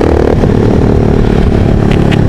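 Motorcycle with a straight-through exhaust and its valve opened, heard from the rider's position as a loud, continuous, rough engine roar with faint clatter and no speech.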